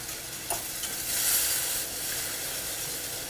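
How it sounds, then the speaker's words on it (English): Stock whisked into a hot roux for chicken gravy gives a steady bubbling sizzle and hiss with stirring noise, close and continuous, with no talking. "I can put the heat back on as I keep whisking in the remaining stock."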